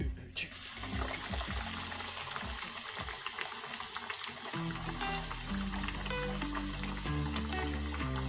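Chicken katsu frying in hot oil, a steady close sizzle and crackle running the whole time, with some stirring and splashing water mixed in.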